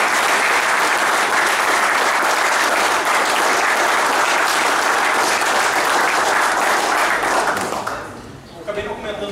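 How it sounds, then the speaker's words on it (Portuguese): A theater audience at a poetry and literary evening held in a prison applauds loudly and continuously for about eight seconds, dense clapping that fades out at the end with a few trailing claps. "mais uma salva de palmas de geração de outro"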